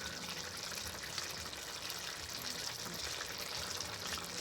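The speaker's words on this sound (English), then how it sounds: "So I'm just pouring the sauce over it." Sauce is poured over lobster in a small cooking pot, giving a soft, steady liquid splashing and trickling noise that runs evenly for a few seconds at low volume.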